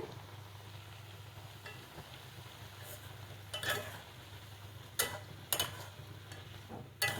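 Pointed gourd and potato sautéing in a pan, a low steady sizzle with a few sharp scraping stirs of the spatula toward the end, heard alone.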